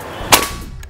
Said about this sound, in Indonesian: Tembakan yang ketujuh.